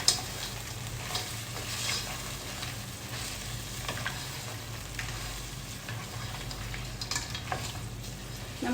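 Whole crabs are added to a pan for a crab roast and cook with a steady, crackling sizzle, broken by intermittent scraping and clattering as the mixture is stirred.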